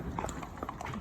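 Horse hooves clip-clop on hard ground in a business park, several quick irregular strikes close by, with a faint background murmur.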